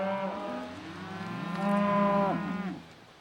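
Several cows moo loudly on a farm as they are walked down a track toward the barn, long drawn-out lowing calls overlapping and swelling in the middle before fading, with no talk.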